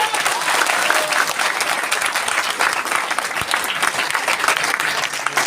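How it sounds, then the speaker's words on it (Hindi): A crowd applauds at a company gathering in Gurugram with loud, dense, continuous clapping that holds steady throughout and is not interrupted by speech. "इसके बाद आप ताली पक्का बजाओगे।"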